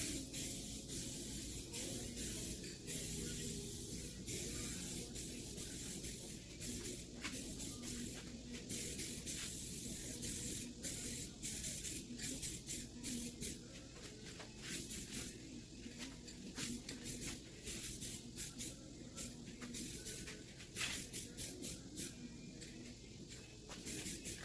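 A spray gun or aerosol applies a second coat of paint to an interior part of a 2017 Duramax truck, producing continuous hissing spray in repeated short bursts, fairly faint and steady, with no talk.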